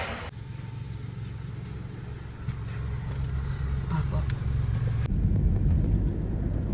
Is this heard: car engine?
yes